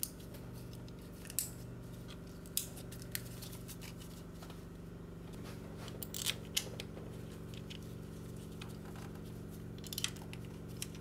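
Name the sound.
reconnecting electrical connectors on Toyota Highlander engine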